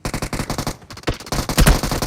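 Rapid automatic gunfire crackles through a video game match in quick regular bursts, loud and close, with a brief lull midway before heavier shots return at the end.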